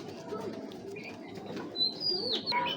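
A racing pigeon held in the hand flutters its wings, soft flapping bursts with a few faint coos and chirps from nearby birds.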